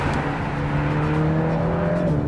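Mercedes-AMG Black Series sports car driving along a road, a steady loud engine drone with a rising tonal note and rushing wind, close and continuous with no talk.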